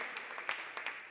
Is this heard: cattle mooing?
no